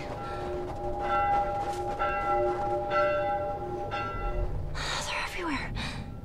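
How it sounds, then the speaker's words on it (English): Church bells in the video game The Last of Us ring repeatedly with long, resonant tones, mid-distance, during a blizzard, followed by a breathy gasp or sigh near the end. "I'm supposed to be going towards these church bells."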